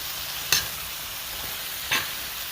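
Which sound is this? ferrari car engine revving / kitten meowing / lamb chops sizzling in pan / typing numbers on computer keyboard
lamb chops sizzling in pan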